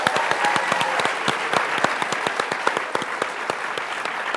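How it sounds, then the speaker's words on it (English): Studio audience applauding on a game show episode after a contestant is sent off, a dense steady round of clapping heard alone and fairly close. "Big round of applause for Duncan."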